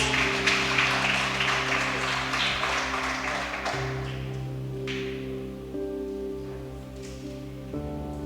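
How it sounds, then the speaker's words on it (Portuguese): Church congregation applause, a wash of clapping that starts strong and gradually thins out while sustained tones from instruments hold underneath. "Dê um aplauso a Jesus."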